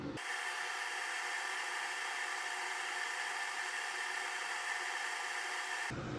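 A hot-air heat gun blows steadily on a Lenovo ThinkPad E15 Gen 1 laptop circuit board during a charge port repair, a constant loud airy hiss from start to finish.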